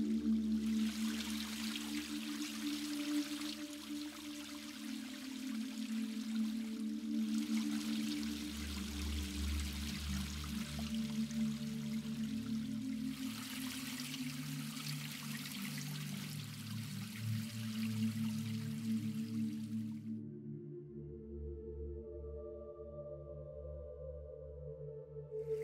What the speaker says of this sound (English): Water is plentiful, as everything drains to the bottom of the ravine.